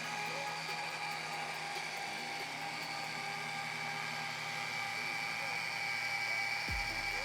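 A rotary polishing machine buffs a car's paintwork with a steady, high-pitched whir that stays close and even throughout, with a faint low rumble beneath.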